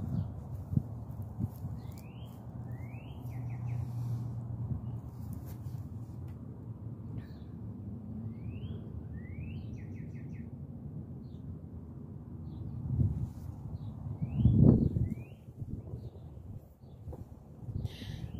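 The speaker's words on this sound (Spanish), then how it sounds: "Los pajaritos están súper contentos, los cardenales, los blue jays, los finches están cantando," Songbirds, including cardinals, blue jays and finches, give short, faint chirps in scattered pairs over a low, steady outdoor rumble, with no talk.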